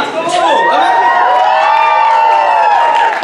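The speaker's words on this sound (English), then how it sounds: "There was not enough cheering for that. Come on!" A crowd cheers and whoops loudly at a student association cultural night, with high excited shouts and voices layered into a continuous roar that holds for about three seconds.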